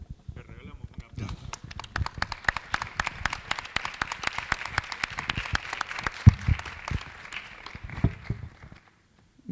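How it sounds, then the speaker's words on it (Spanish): A modest audience gives a round of applause after a talk, a sparse room of hands clapping with uneven, fairly close claps that swell and then taper off. "Le regalamos un aplauso."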